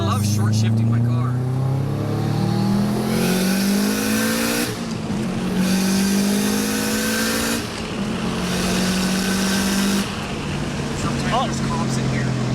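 Subaru WRX engine droning close by while being driven, with a steady rising pitch through each gear that drops at each shift, three shift cycles in a row, and occasional voices under the engine noise.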